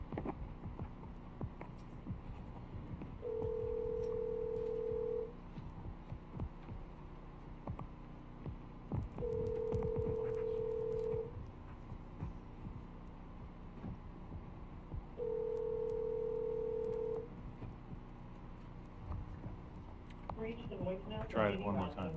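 Three long steady tones on a telephone call line during a public meeting, each about two seconds, evenly spaced, over room hum and murmured voices, with a burst of noise at the end.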